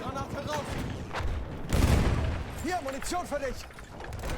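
A grenade is thrown and bursts in Battlefield 1, a thudding blast in the middle set against distant battle gunfire, with someone talking over the scene.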